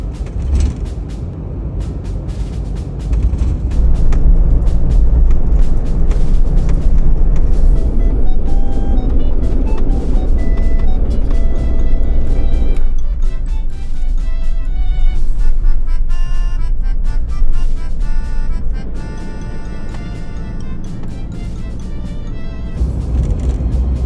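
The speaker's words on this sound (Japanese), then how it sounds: "キャブコンなんで少し不安ですが、ゆっくり走行していきます。" A cab-over camper van, fourteen years old and second-hand, climbs slowly up a steep, winding, narrowing mountain road, its engine droning loud and close throughout with a steady low rumble and shifting road noise.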